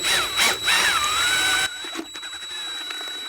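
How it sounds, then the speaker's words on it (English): A handheld power mixer whirs loudly, its motor pitch rising and falling over the first second and a half before it cuts off, leaving quieter faint knocks and rustles. "when mixing like this right here with one of these mixers, you got to be careful because you will sling it everywhere"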